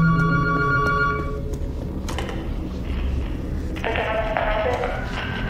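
A telephone rings loudly in a game setting amid creaking, mechanical noise: a bright harmonic bell tone at the start, a second burst of ringing later, with clattering sounds between.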